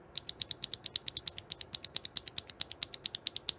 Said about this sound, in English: Here's the sound of a OG Holy Panda with a Halo Clear stem and an Invier Panda housing.